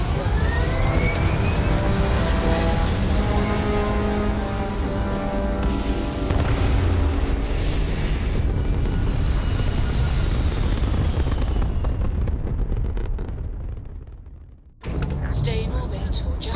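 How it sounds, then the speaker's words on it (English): Spaceship lifting off in the video game Starfield, a loud sustained rumbling roar with rising engine tones, swelling then cutting off abruptly before a brief return, voices talking over it. "Liftoff looks good"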